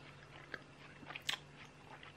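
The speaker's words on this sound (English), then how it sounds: "Alright, let me chew this quickly." Quiet, close chewing of watermelon-flavoured Danish bubblegum, with a few soft wet bites and crunchy smacks scattered over a low background.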